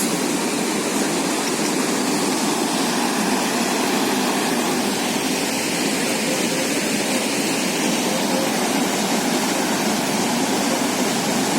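Loud, dense roar of a fast river fed by melting Rohtang snow, heard from the riverbank near Manali as a steady unbroken wash of rushing water with no speech.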